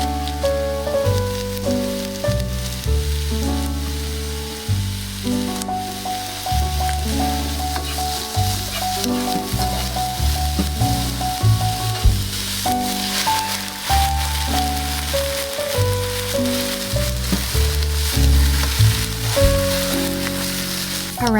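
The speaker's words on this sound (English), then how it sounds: "On medium to high heat, add a few tablespoons of oil and add your vegetables in." Vegetables frying in a few tablespoons of oil in a pan over medium-high heat, a steady close sizzle running continuously beneath prominent background music.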